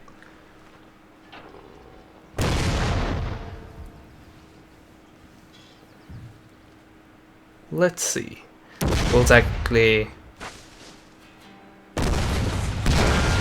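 Artillery cannons in Total War: Shogun 2 Fall of the Samurai boom in several heavy bursts, one single blast and then a clustered volley, over low battlefield ambience, with someone talking briefly between shots.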